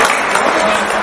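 Audience applause from a live talk-show crowd, a loud, dense burst of clapping lasting about a second, with a voice mixed in.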